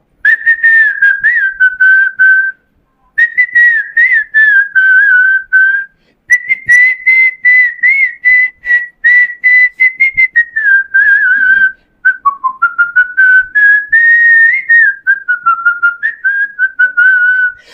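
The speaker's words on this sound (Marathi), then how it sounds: "मी शिट्टीतून गाणं म्हणून दाखवणार, ते गाणं कुठलं आहे आम्हाला कमेंट बॉक्समध्ये आवर्जून कळवा." A person whistles a song, a clear, loud melody in phrases separated by short pauses, heard alone without speech.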